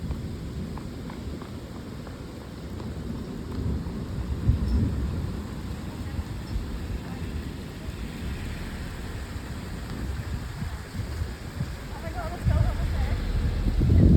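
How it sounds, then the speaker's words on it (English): A severe thunderstorm with heavy rain pelting down in a continuous rush, low rumbles of thunder swelling underneath and wind buffeting the microphone, all fairly loud and close. "Yep, here comes the rain bad."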